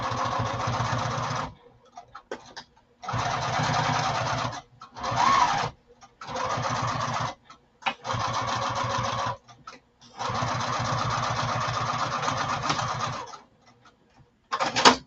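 A sewing machine stitches lining in repeated bursts of fast, even whirring, stopping and starting several times with short silent gaps between runs, close and clear with no talk.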